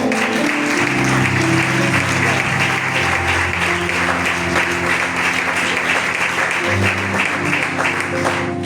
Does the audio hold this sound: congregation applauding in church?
yes